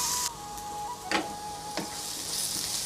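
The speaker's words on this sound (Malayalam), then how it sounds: "ചോപ്പ് ചെയ്ത് വെച്ചിരിക്കുന്ന സവാള ഇട്ട് കൊടുക്കാം." Chopped onions sautéing in a pan for a Punjabi chicken masala, a steady close sizzle with a couple of sharp scrapes or stirs and a faint high tone running underneath.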